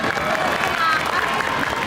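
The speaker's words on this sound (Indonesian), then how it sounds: "Tepuk tangan untuk SDN Cibubur 10." An audience at an Indonesian elementary-school quiz competition applauds the SDN Cibubur 10 team, a steady wash of clapping and crowd noise lasting a couple of seconds.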